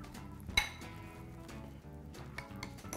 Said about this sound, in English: So just whisk it up.